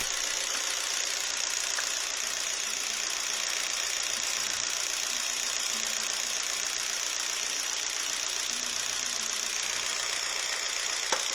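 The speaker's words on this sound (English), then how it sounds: "disconnect the electrical connector on number 3 cylinder to listen to the sound of the engine" A Jeep engine idles steadily and loudly up close with the number 3 cylinder's electrical connector disconnected, a constant mechanical hum with a faint rhythmic knock underneath, no voices.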